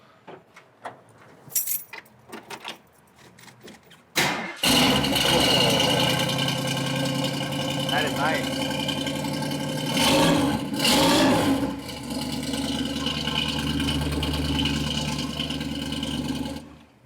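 A 1960s car's 289 HiPo V8 cranks and fires up at about four seconds, then settles into a loud, steady, healthy idle that runs to the end. Faint clatter comes before the start, and a voice speaks briefly.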